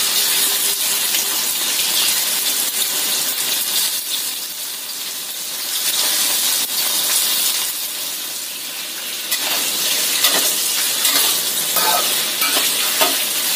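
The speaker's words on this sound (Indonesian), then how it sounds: "Kita goreng ayamnya itu agak sampai kecoklatan kayak gitu." Chicken pieces frying in oil over medium-low heat until browning, a steady close broadband sizzle with occasional stirring and spatter, no talk.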